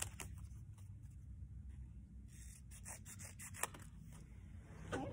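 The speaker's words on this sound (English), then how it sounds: "you're going to take your scissors" Scissors snip through paper while a dinosaur tail hat is cut out for a craft; faint, close scratchy cuts repeat irregularly over a quiet room hiss.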